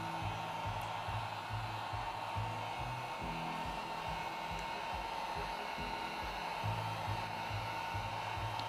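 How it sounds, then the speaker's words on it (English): An electric heat gun blowing hot air over wet acrylic pour paint, a steady whirring fan drone with a rough, pulsing low hum, close and continuous throughout. "I always like to take my heat gun for a second round because it'll help open up some more cells"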